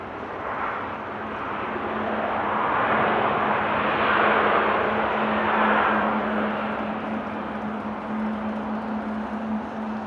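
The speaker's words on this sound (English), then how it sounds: "Let's just follow the A380 on its approach, shall we?" An Airbus A380 on approach to Amsterdam Airport in rain makes a distant, steady jet roar. It swells gradually toward the middle and then eases, with a constant low hum beneath it.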